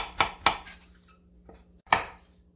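A knife slices pickled cucumber (oiji) thinly on a cutting board in three crisp, close chops, two quick ones and then a pause before the last, with nothing else around them.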